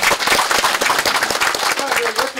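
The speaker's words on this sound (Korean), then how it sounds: "박수로 보내주시기 바랍니다." Audience applause at the 41st annual general meeting of a Confucian clan association at Hakbong head house, a burst of dense clapping with a voice speaking partway through near the end.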